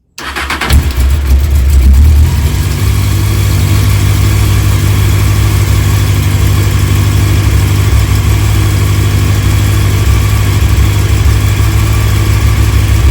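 A Honda CBF600S motorcycle engine fires up to warm up before an oil change and settles into a steady, loud idle that runs on evenly without any talking.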